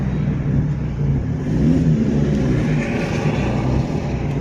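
Engine of a Mark IV Jetta 1.8 car, steady and fairly loud, with a low rumble that swells slightly mid-clip as if lightly revved, with no talk.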